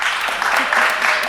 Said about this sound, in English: You're not going to continue to clap